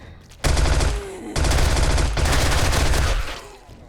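Rapid bursts of gunfire from a weapon loaded with normal ammo in the survival game 7 Days to Die, loud and close, with two sustained volleys separated by a short gap.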